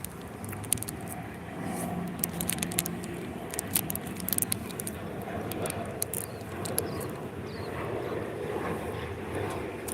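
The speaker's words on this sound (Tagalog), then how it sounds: "Panayda ng aeroplano rito, malapit lang kami sa airport. Auckland Airport." An airplane passing near Auckland Airport, heard outdoors in a park as a steady, broad rumbling roar with scattered clicks and rattles from nearby.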